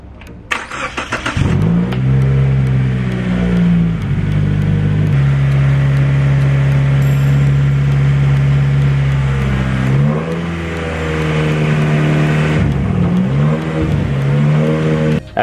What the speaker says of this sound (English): He's gonna keep the engine at 2000 RPM